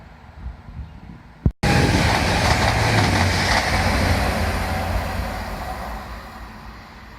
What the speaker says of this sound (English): I was just about going on the other side of the platform and a train decided to come